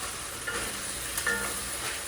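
Beef browns in an oiled pan for a Mexican beef stew, giving a dense, even sizzle that runs unbroken at close range with a few faint stirring scrapes on top.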